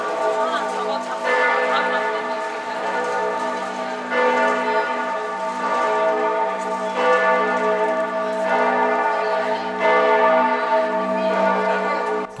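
Cathedral church bells ring out across a street in Florence, a dense, sustained peal with repeated strikes roughly every few seconds, fairly loud with crowd murmur underneath.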